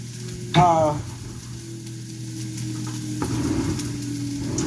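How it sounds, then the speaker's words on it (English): Red onion and garlic sweating in avocado oil in a pot for mushroom soup, a steady low sizzle with a brief clatter near the start, continuous and close. "I'm gonna just sweat my onion and garlic down a little bit in that avocado oil"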